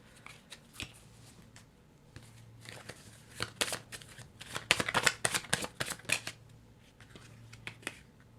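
Tarot cards being shuffled up close, quiet bursts of riffling and snapping card edges that come in a quickening, dense flurry midway before tapering off into a few scattered flicks.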